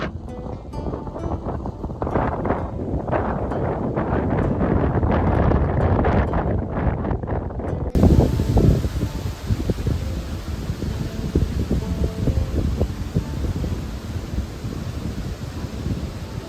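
Breezy wind blowing steadily on a wooded stretch of the Superior Hiking Trail in Minnesota, a continuous rushing buffet across the whole stretch, loud and close with a stronger gust midway, no talking.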